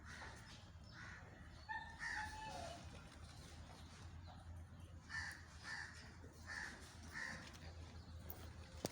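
Faint, short crowing calls from a Mianwali-breed rooster at a poultry farm among hens, repeating in scattered bursts over a steady low farm hum.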